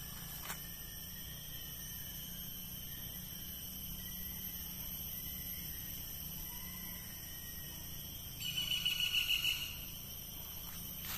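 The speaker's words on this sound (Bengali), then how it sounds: "ঝিঝি পোকার ডাক শোনা যাইতেছে।" Crickets chirp in a deep forest in daytime, a thin, steady high-pitched drone with a brief louder trill of insect buzzing near the end.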